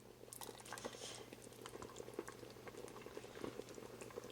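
Sweet and sour soup simmers in a pot on medium-low heat, a quiet, steady bubbling with small irregular pops and ticks.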